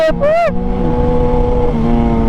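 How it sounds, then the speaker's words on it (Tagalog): A motorcycle engine, a BMW S1000 XR, drones loudly and steadily up close, its pitch shifting slightly, after a brief rising whine at the start. "ang ingay naman ng motor na yan"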